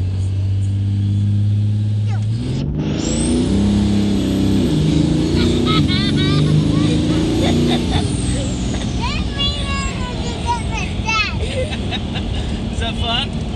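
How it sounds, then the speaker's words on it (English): A 2005 turbocharged car launches hard on about 12 pounds of boost, engine roaring loud and rising with a high turbo whine climbing over it, while people talk and shout nearby throughout. "We're gonna launch it like 12 pounds of boost."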